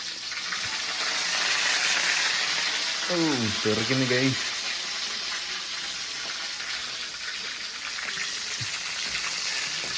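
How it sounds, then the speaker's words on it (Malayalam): Onions, green chilies and curry leaves fry in hot oil, a loud, steady sizzle that runs throughout, with a voice briefly speaking over it near the middle. "സവാള ഇടുന്നുണ്ട് അപ്പൊ പിന്നെ അത് നന്നായിട്ട് മൂത്തലും കുഴപ്പമില്ല അടുത്ത പച്ചമുളക് ഇടാം കറിവേപ്പില"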